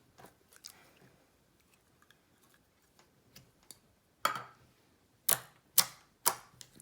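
Hot pink, perfume-scented slime gives soft, sparse clicks and pops, followed by several sharper, louder snaps near the end, with no voices.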